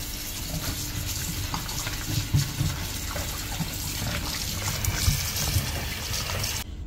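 Running water splashes steadily from a tap over oxtail meat rinsed in a sink, with soft sloshing and handling sounds, close up and continuous before cutting off at the end.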